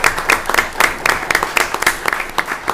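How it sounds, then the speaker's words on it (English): A town council meeting audience claps for a sheriff's captain: close, dense applause with quick, irregular claps over about three seconds. "welcome Captain Nash with a round of applause"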